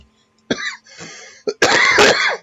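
A person coughs in a harsh, rasping fit, with several chesty bursts and throat clearing building to a loud, prolonged final cough, close and alone with no talk.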